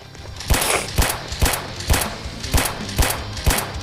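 Pistol shots ring out in the Roblox game Zombie Arena, eight evenly spaced, punchy reports about half a second apart, loud and alone without talk.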